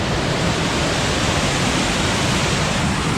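Waterfall roaring down a steep rock apron on a mountain trail near Squamish, a loud, steady, unbroken rush of water that fills the whole clip without a break.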